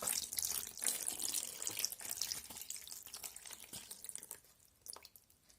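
Water pours and splashes steadily onto a fire to put it out, loud at first and then thinning out toward the end, with no voices.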